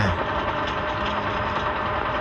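Steady low engine drone of a tractor idling nearby at night beside a fishing spot, continuous and fairly loud with no talk.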